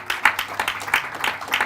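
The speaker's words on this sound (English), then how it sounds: "Round of applause to you." A small audience at a talk on marriage clapping, a brief patter of scattered hand claps at moderate level, close and uneven.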